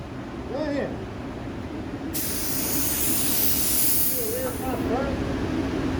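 A paint sprayer hisses loudly and steadily for several seconds, starting abruptly partway through amid ongoing background noise, with brief voices talking before and after the spray.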